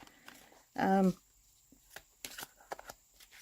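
A deck of cards shuffled during a live card reading, one short riffling burst followed by soft handling clicks and rustles, close and quiet.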